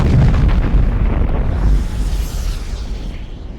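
The planet Krypton explodes in the Superman film as a deep, loud rumbling roar that fills the clip and slowly eases while staying heavy throughout.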